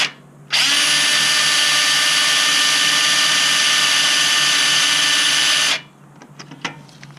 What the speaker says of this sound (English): I think I'm going to have to go a little farther in with the drill.